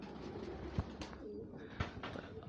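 Pigeons cooing inside a wooden loft, a few soft repeated coos at moderate distance with low rhythmic pulses and faint ambient noise, no talking.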